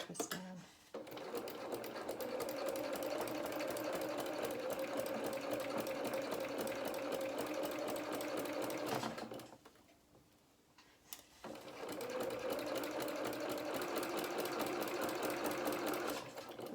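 A sewing machine runs in two long steady bursts, stitching down the front of a small winter skating coat for a Luna Lapin rabbit doll, with a short quiet pause between the runs.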